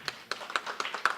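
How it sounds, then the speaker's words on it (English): A few sparse, separate hand claps from a conference audience, close and brief, forming a short irregular patter. "give yourselves a round of applause"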